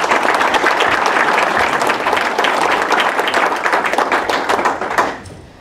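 A crowd at a Port of Hueneme World Trade Week event gives a loud round of applause, dense and even for about five seconds before it quickly dies away.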